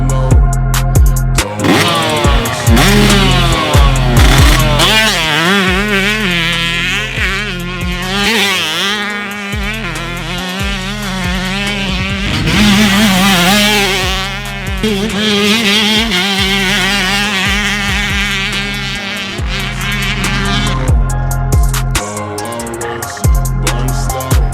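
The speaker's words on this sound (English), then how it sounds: "this YZ125 sounded amazing with Ezra Lewis riding the bike today" A Pro Circuit-modified 2023 Yamaha YZ125 two-stroke motocross bike races around a dirt track, its loud, raspy engine revving hard, shifting and dropping off repeatedly as it passes close, sustained and dominant throughout.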